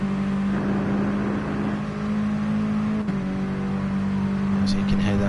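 A race car engine in the video game GT Sport drones steadily at high revs, briefly dipping as it short shifts, with a voice talking over it throughout.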